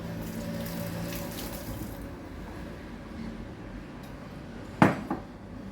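Water pours into a pan while tuna cooks in a home kitchen: a soft, steady trickling wash that fades away, then a clear metallic clank of cookware near the end, with no talk.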